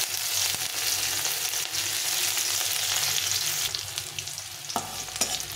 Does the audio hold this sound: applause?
no